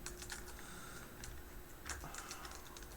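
Rapid, continuous clicking of computer keyboard keys during coding, with dense irregular keystrokes and a few louder presses. The typing is fairly close and quiet, over a steady low background hum.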